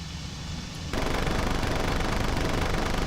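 Sustained machine gun fire from a WWII fighter in the flight combat game IL-2 Cliffs of Dover, loud dense rattling that kicks in after a quieter engine drone and continues without pause.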